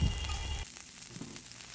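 Ginger-chili paste fries in a pan as a short burst of close sizzling, loudest at first and then settling into a quieter, steady crackle with no voices.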